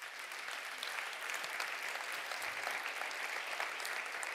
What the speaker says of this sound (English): Could we give a warm round of applause to everybody on the panel?